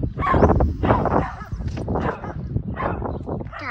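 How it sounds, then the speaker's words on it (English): A dog barks and yips in short irregular bursts, fairly close and loud, with a few whimpering notes mixed in. "Doggy."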